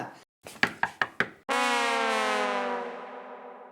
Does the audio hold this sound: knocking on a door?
yes